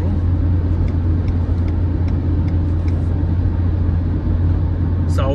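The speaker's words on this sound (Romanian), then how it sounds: "iar suntem într-o urcare pe autostradă, dar totuși urcăm. Da, e solicitat motorul." A Dacia Jogger Hybrid climbs a motorway incline, its engine working hard under a loud, steady low rumble of road and cabin noise, with a brief higher sound at the end.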